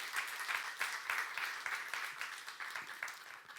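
Church congregation clapping fervently during a youth service sermon, a steady rippling wash of applause, fairly distant and soft, with no talk over it.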